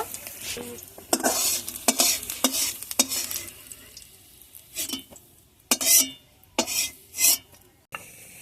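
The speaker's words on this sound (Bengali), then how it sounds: "পেঁয়াজটা খুব বেশি ভাজবো না একটু নরম করে নেবো" Onions fry gently in a pan to soften, with a soft sizzle underneath while a utensil stirs and scrapes in irregular close bursts, some quick and some drawn out.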